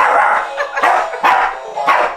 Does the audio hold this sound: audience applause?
no